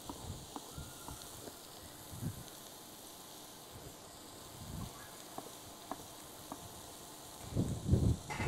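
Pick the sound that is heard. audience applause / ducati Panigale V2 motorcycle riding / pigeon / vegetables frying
vegetables frying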